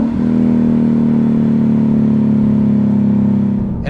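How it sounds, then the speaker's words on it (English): A Lexus RC-F sports car engine drones loud and near with a steady, sustained note from rev matching on downshifts, without voices, and eases off right at the end. "With a lovely rev match on the downshifts."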